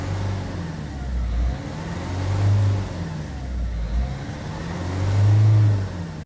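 A Peugeot 5008 engine revs up and down between roughly 2000 and 2500 rpm during EGR valve work, rising and falling in smooth swells with two noticeably stronger peaks, close and steady, with no voices.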